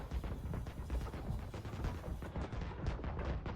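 Dense, continuous gunfire from the video game Seasons 19, a rapid barrage of overlapping shots and blasts that stays loud throughout without pause.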